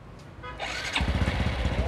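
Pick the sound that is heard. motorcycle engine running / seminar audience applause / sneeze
motorcycle engine running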